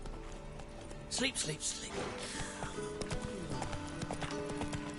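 Hoofbeats of the horse Roach galloping in The Witcher 3: Wild Hunt, a steady clip-clop running under background game sounds, with a brief snort or whinny, while a voice talks over it.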